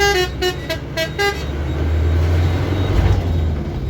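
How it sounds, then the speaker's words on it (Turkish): Heavy vehicle air horn at a heavy-vehicle driving test course in İzmit: several short, loud, pitched toots in quick succession, then a steady low engine rumble. "Burak korna çalsana buna Burak."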